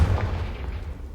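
A loud, close explosive boom from the Confringo spell in Hogwarts Legacy, a single heavy blast with a rumbling tail and no talk over it.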